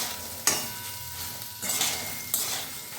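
Jujube pickle being stirred with salt and turmeric in a pot, with a few close scraping, rustling sweeps and clicks of the utensil, about three strokes, and no talking.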